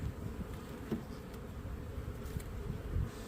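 Honeybees drone around a backyard hive in a steady, dense buzz, with a few individual bees passing close to the microphone.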